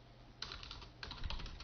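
Soft computer keyboard typing in two short bursts of quick clicks, faint and close, with no talking.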